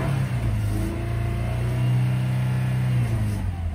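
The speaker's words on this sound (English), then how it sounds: "Revs up nice, no check engine lights on." A 2011 Subaru Forester with a 2.5L engine revs up from idle, the engine note climbing and holding in a smooth, close, loud run before settling back down.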